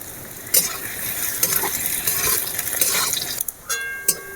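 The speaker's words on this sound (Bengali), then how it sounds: "পেঁয়াজগুলো ভালো করে ভেজে নেব।" Chopped onions fry in oil in a kadai with a pinch of sugar, a steady close sizzle broken by several sharp clinks of a spatula stirring against the pan.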